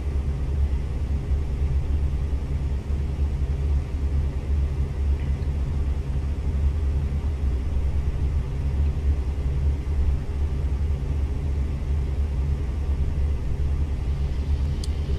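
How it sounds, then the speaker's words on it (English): A truck engine in the driving game American Truck Simulator gives a steady, continuous low rumble with an unchanging drone throughout, with no talk over it. "Hopefully you'll be able to hear the engines a bit more."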